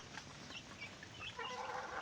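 Native village chickens and roosters on a Konkan backyard poultry farm, a soft bed of clucking and faint calls that swells slightly toward the end, with no talking.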